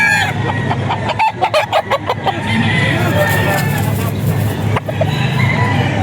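A Sweater breed gamefowl rooster crows loudly at a crowded rooster market amid other fowl clucking, with people talking and steady crowd and traffic noise underneath.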